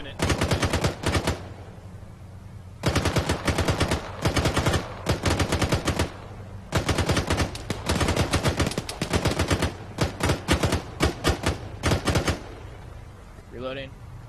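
Loud rapid bursts of automatic gunfire ring out again and again during a convoy ambush in platoon training, long rattling strings broken by brief pauses, with a voice speaking near the end.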